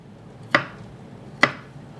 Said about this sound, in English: So forgot to cut the garlic. It doesn't have to be fine, just something real rough chop.